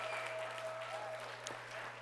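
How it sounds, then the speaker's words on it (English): Applause from a lecture audience on a Saturday, a steady, dense wash of many hands clapping that holds at an even level throughout and sounds close and full. "That round of applause goes right back to you for believing that."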